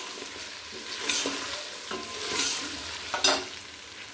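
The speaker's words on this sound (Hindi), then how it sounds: "दो बड़े साइज़ की प्याज ली है ताकि अच्छा सा मसाला बन जाए ना इसका। तकरीबन 5 मिनट इसको भी मैं ऑयल में पकने दूंगी" Onions frying in oil in a pot, a close, moderate sizzle with repeated stirring scrapes and clinks every second or so, with no talking.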